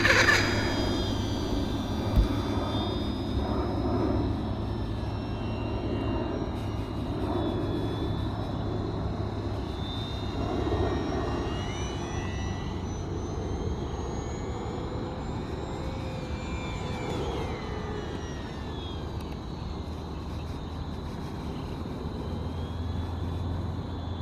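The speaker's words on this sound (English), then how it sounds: "Here's a smoother, more scaled takeoff out of the grass for you." An E-Flite RV-7 RC model airplane takes off smoothly from a grass field, its electric motor giving a sustained high whine that rises and shifts in pitch as it climbs, over a constant outdoor background.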